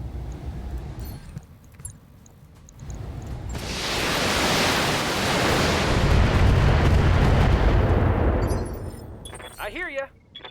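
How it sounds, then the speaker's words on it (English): Mortar fire in the BattleTech video game: a loud, swelling blast of rushing noise builds for several seconds, then fades, with quieter game sounds before and after. "Oh, that's a mortar"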